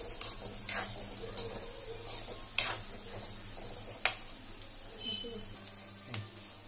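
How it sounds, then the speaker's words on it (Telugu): Chopped onions frying in hot oil in a pan give off quiet, scattered crackles and pops over a low background hum, with occasional sharper snaps. "మన ఆనియన్స్ అనేవి బ్రౌన్ కలర్ వచ్చే వరకు బాగా ఫ్రై చేసుకోవాలి."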